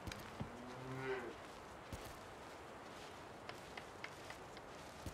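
A cow moos once in the farming video game Force of Nature 2. The single low call lasts about a second and is followed by soft footstep-like taps over a steady ambient hiss.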